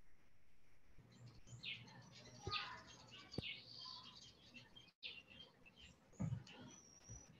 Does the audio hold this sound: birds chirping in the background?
yes